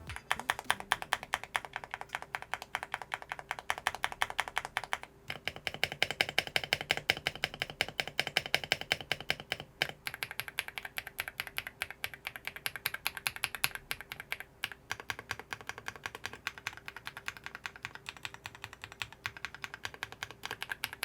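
Steady, fast mechanical keyboard typing with crisp, even clacks close up, running continuously with a brief pause partway through; keyboard has a polycarbonate plate, silicone gaskets and mounts, and sound-dampening foam.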